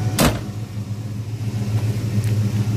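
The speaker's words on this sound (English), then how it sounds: "I do believe it has aftermarket exhaust" A car with an aftermarket exhaust and a targa top rumbles low and close, with one sharp burst near the start and then a steady throaty drone.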